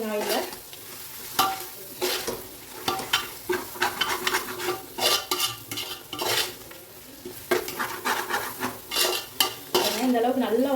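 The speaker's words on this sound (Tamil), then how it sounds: "இந்த ஆயிலே நல்லா வதக்கிடணும் புதினா கொத்தமல்லியை" Mint and coriander sautéing in oil for chicken dum biryani, a close sizzle under repeated scraping and clinking strokes of a spoon stirring in the pan, with no talk.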